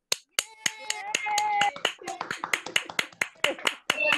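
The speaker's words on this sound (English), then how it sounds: "Please unmute yourself and give yourself and your fellow graduates a big round of applause" Graduates at an online graduation ceremony clap through unmuted microphones, a run of sharp, fairly close claps from a small number of people, with brief voices and a whistle-like tone mixed in.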